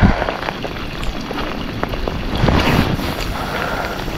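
Steady wind blows across the open Daugava river during a fishing outing, rumbling and buffeting continuously with low gusty noise and some scattered knocks, with no voices heard.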